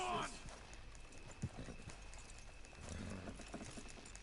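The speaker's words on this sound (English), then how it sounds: "Good horses." Horses pulling a wagon in Red Dead Redemption 2 trot with rhythmic hoof clip-clops, joined by a brief whinny near the start and faint background voices.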